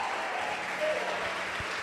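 Church congregation applauding the Lord during a Portuguese-language sermon: a steady, dense wash of clapping throughout, moderately loud, with a faint voice mixed in underneath.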